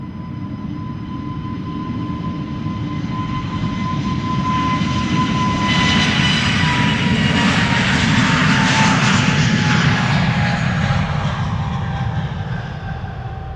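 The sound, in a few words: Airbus A320neo jet departing Amsterdam Schiphol Airport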